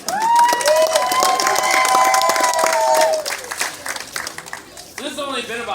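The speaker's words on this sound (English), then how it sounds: "You guys can clap for him." A crowd at an alligator show breaks into clapping and some cheering, with a loud, slightly gliding whistle-like tone over it at first, then the applause thinning out as a voice starts up near the end.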